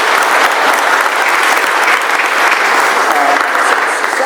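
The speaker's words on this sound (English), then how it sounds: "I think you ought to give them all a round of applause." A public meeting audience gives a loud, sustained round of applause, dense clapping close by with a few voices faintly mixed in.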